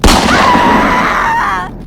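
A gunshot sound effect fires as a single loud, close blast whose sharp crack rings out into a long fading tail, with no talk over it.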